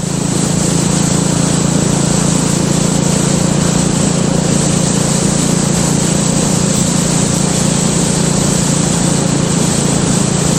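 A BSA Gold Star motorcycle ridden through the Potteries, Staffordshire, its engine droning in a loud, constant, buzzing note heard close up from the rider's position, blended with wind rush and no break in the sound.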